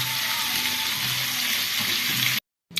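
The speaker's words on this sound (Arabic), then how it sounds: "هنشوحه الاول كده يدبل معايا، واول ما احس انه اتشوح هنقلبه مع الكبده على طول" Peppers sauté in a pan for a liver sandwich, giving a steady, close, bright sizzle that runs for over two seconds, cuts off briefly, then returns.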